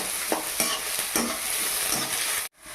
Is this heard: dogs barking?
no